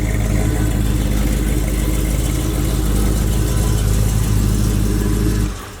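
A supercharged Oldsmobile Cutlass engine runs cold just after being cranked, a loud, close, steady rumble with a throbbing low idle that cuts off abruptly at the end.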